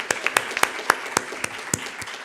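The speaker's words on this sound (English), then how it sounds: "Please give a round of applause for the panelists and to Tanya for doing such a beautiful job." Scattered applause from a small audience thanking panelists at a discussion event, with individual sharp claps spaced irregularly and fairly close, some faint murmuring underneath.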